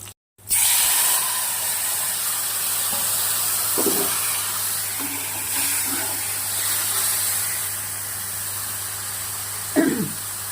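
Chopped onion with cumin, turmeric and coriander powders hits hot oil for a tempering, giving a steady loud hiss and sizzle after a brief silent start, with a few soft clinks of utensils.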